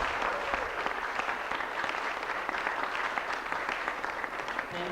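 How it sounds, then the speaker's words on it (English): An audience claps through an installation ceremony, a dense, even wash of applause from a sizeable crowd, steady and moderately loud for the whole stretch without any talking on top. "Can you give a louder applause to all of us?"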